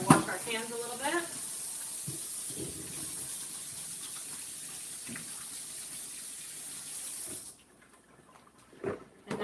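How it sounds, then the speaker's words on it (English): Running tap water pours steadily as hands are washed at a kitchen sink while making peach pie, a close continuous hiss that stops abruptly near the end, with brief voices at the start and finish. "We're going to wash our hands a little bit."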